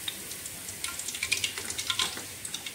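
Quail pieces frying in hot oil produce a light crackling sizzle with a run of sharp pops and spits in the middle, faint and close, with no voices.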